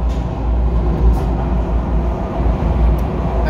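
A Miami Metrorail train rolls along elevated tracks, filling the car with a steady, loud low rumble and rattling wheel noise, no voices.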